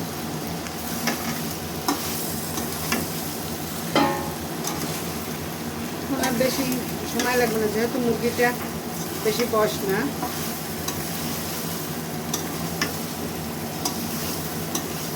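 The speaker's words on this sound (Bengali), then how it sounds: "এখন আলু দিয়ে আর একটু কষাবো" Chicken pieces with potatoes being sautéed and stirred in a pan for a chicken and soybean curry, a steady sizzle with scraping and stirring strokes throughout, louder in the middle, while someone talks over it.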